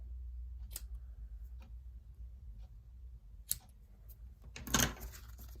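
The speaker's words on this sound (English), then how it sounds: "Right, I'm going to get my snips. I'm going to trim this." Snips trim cardstock for a handmade masculine birthday card: a few sharp, close snipping clicks spaced out over a quiet background, ending with a louder cluster of cuts.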